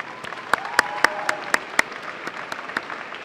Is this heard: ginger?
no